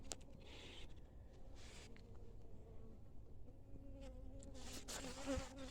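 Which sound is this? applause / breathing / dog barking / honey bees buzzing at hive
honey bees buzzing at hive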